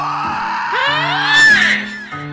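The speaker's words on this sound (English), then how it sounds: "The burglar yelled in horror." A man screams in horror, one loud rising shriek that swells and breaks off over a steady droning tone, alone with no talk.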